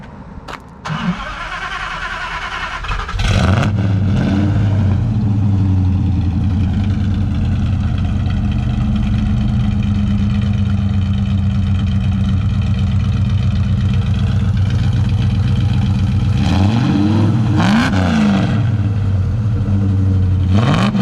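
A 1968 Dodge Coronet or 1970 Dodge Super Bee V8 cranks over after a few clicks, catches with a loud burst and settles into a heavy lumpy idle, then revs sharply in a couple of blips near the end, close and loud.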